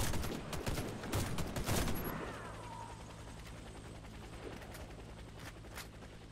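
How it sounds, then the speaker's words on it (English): Attack helicopter and heavy gunfire in the shooter game Warface, with dense rapid bursts of shots for the first two seconds, then a fading rotor drone and a few scattered distant shots, no talk. "destroy the enemy chopper"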